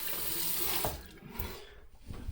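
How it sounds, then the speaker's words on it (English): Water runs steadily from a bathroom tap to rinse a Rockwell 6S safety razor, a loud continuous gush that turns choppy and broken as the razor passes under the stream. "So let's rinse this off."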